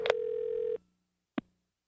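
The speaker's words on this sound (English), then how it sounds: "Spike is going to call her this morning and make her even more nervous with a phone scam." A telephone call being placed for a prank call: a steady dial tone holds for under a second, then cuts off, followed after a pause by a single short dialing beep; quiet and isolated.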